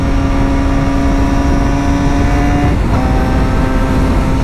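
Yamaha R6 sport motorcycle on a highway pulls hard under acceleration, its steady engine drone breaking briefly as a clutchless upshift cuts the tone before it resumes at a lower pitch, loud and continuous with heavy wind noise.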